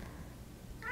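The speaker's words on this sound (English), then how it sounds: "you might hear my cat Huxley crying in the background" A house cat cries faintly in the background, a single short meow rising at the very end after near silence.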